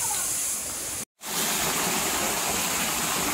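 A stream of water rushing along an outdoor travel spot, a steady broad wash heard up close and fairly loud, briefly cut out for a moment before resuming just as strongly.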